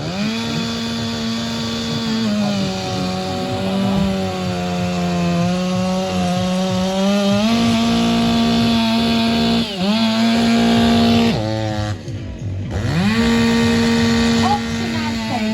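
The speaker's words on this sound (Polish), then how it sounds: "dwie piły przy konkurencji" Two chainsaws in a cutting competition roar continuously and loudly, engine pitch rising and falling as blades bite into wood, with brief dips and surges as cuts change.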